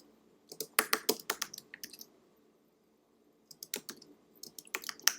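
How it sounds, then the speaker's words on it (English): Typing on a computer keyboard while entering commands: two close bursts of quick, crisp keystrokes separated by a short silent pause, with no talk. "So let's type that in."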